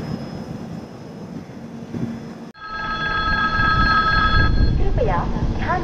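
A train rumbles at Chiplun railway station on the Konkan line, a low steady roar rising after a brief dip, with a sustained tonal drone over it and voices faintly nearby.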